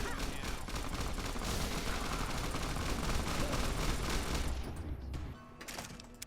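Gunfire rattles through a video game fight, a dense continuous burst of rapid shots over several seconds before it cuts off into near quiet.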